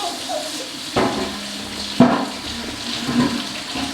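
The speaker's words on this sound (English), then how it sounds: "We gotta wash our tangerines first." Tangerines rinsed by hand under a running kitchen tap, a steady moderate stream of water with a few louder splashes and knocks as the fruit is handled.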